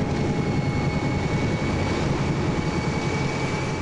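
Military jet aircraft rolling for takeoff on a Vietnam War airfield, a loud, steady broadband engine roar filling the whole clip with no talk over it.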